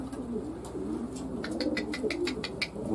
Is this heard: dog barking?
no